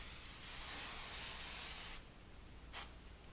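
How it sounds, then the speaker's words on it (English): A light, steady hiss of aerosol spray onto two stencils on beer glasses from about 12 inches away, lasting about two seconds, followed by a quick short burst, close and fairly soft. "Now lightly spray the 2 stencils from about 12 inches away"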